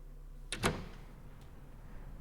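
A door opening or closing in a visual novel game, one short muffled thump over a quiet background hum.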